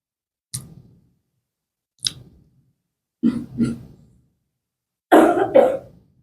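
Four separate coughs spaced a second or two apart, the last one longest and harshest, close up with silence between them.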